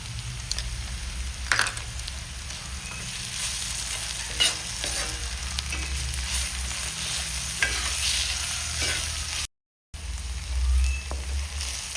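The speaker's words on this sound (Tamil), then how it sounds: "இஞ்சி பூண்டு எல்லாம் வதங்கிடுது." Ginger garlic paste and onions sautéing in a pan for snail gravy, a continuous close sizzle with occasional stirring scrapes and clicks, broken by a brief dropout near the end; nobody speaks.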